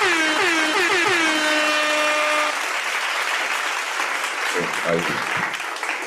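Clapping applause runs under a loud, rising tonal sound during the first seconds and continues on its own afterwards, dense and close, with brief voice-like bursts near the end.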